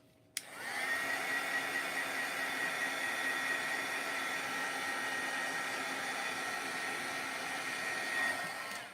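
A handheld heat tool switches on with a click and blows a constant loud whirring, hissing rush of hot air to set ink on scrapbook paper, held steady for several seconds before winding down.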